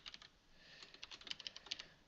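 Quick, light clatter of typing on a computer keyboard while coding in Java, bursts of individual keystrokes in an irregular rhythm, faint and close, with no talking.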